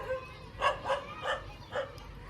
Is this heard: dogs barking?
yes